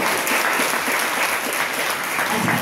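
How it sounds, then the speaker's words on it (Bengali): A seated audience of new dental students at a freshers' speech applauds, a dense, even, sustained clapping that fills the room from start to finish with no pauses. "এইবার তোমাদের ডেন্টাল ইউনিটের স্যারদের জন্য একটা হাততালি দাও।"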